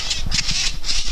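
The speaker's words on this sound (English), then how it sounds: "Look at all these birds." Agitated birds squawk in short repeated bursts, fairly loud and close, with a continuous low rumble underneath, as they scold a bull terrier that has caught birds.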